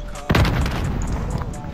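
A single sharp gunshot in Fortnite cracks out loud and close near the start, followed by ongoing game noise and raised voices talking.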